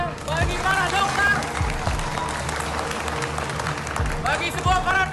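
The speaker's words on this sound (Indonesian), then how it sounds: "Kita beri tepuk tangan dulu semuanya bagi para dokter." Workers at an Indonesian garment site sewing protective gear applaud for doctors during the pandemic, a burst of group clapping with voices and tonal sounds rising over it at the start and again near the end.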